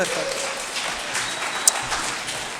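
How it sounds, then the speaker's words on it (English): Scattered applause in a plan commission meeting room, moderate and somewhat distant clapping with a single sharp knock partway through. "If we could just hold our applause, although I like the spirit of the room"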